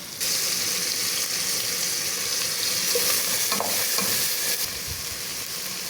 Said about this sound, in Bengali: আমার পেঁয়াজটা যদি হালকা একটু ভাজা হয়ে যায় আমি এর সাথে অ্যাড করে দিব আদা রসুন